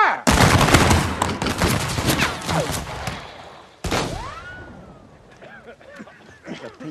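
A volley of rifle shots fired at targets crackles as a dense, loud burst of overlapping gunfire, followed by a second sharp report and echoing whistles and ricochet-like tails fading out.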